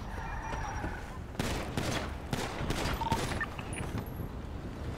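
Scattered gunshots crack in quick irregular bursts during a GTA V NoPixel roleplay shootout, mid-distance and fairly quiet beneath game ambience.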